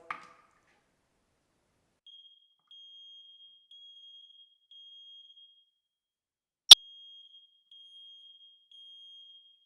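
Newly installed hardwired smoke detector under test, giving a thin, shrill, steady electronic tone in repeated long pulses, with one sharp click partway through and a quiet room otherwise.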